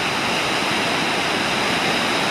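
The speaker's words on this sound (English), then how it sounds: "this is just basically showing you the waves again." Ocean waves breaking at Myrtle Beach, a loud, continuous broadband roar of surf with no distinct individual crashes and no talk.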